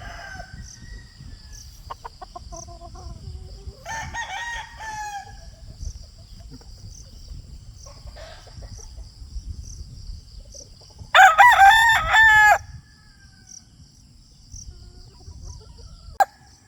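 A rooster crows once loudly and close at about eleven seconds, a harsh drawn-out call over a steady insect-like whine and faint background clucking, with a few softer fowl calls earlier.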